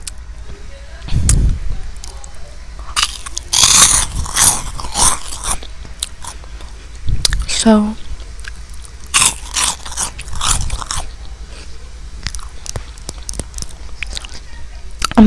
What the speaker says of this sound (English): I'm gonna take another sip and another cheese puff